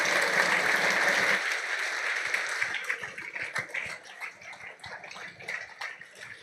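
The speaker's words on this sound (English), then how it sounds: "Please, a round of applause." Audience applause at a business talk event, dense clapping loud at first, then thinning into scattered individual claps that fade out over several seconds.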